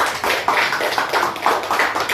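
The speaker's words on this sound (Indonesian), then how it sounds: "Kita kasih tepuk tangan untuk kelompok 1." Students in a classroom clap for a group after its presentation, a dense, even patter of hands close by that carries on without pause.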